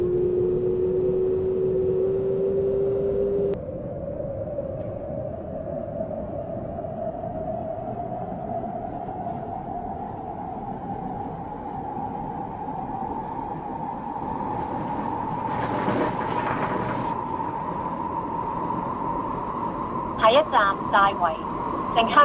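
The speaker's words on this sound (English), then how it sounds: "This train is about to leave." A train in a train simulator game, an SP1900 on the East Rail line, hums and whines as it accelerates away from a station, the tone rising steadily over many seconds, with a few brief clatters near the end.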